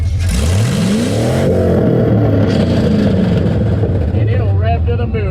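A mud truck engine revs hard against a two-step rev limiter, its pitch sweeping up and down in loud, sustained, close bursts.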